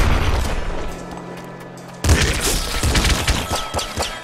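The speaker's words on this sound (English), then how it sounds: "Shotgun shots can bounce off of things, that's pretty cool" Shotgun blasts in the video game Nuclear Throne, a sudden loud burst after a quieter stretch, followed by a dense run of sharp, rapid impacts and ricochet-like cracks close up.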